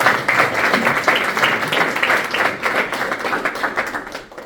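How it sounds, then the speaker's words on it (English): Dense, sustained clapping from an audience at a tech meetup, loud and continuous, tapering off slightly at the end. "can we get another round of applause?"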